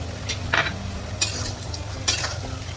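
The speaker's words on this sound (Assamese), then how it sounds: "এতিয়া অকণমান কম জুইত ভাজি ল'ম শাকখিনি।" Mustard greens and red lentils fry over low heat in a pan: a steady hiss of sizzling with three sharp stirring scrapes spaced through it, close and clear.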